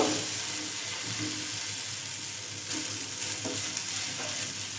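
Mung bean batter sizzles and fries in hot oil on a pan, a steady crackling hiss with brief louder spatters near the middle, close and alone without talk.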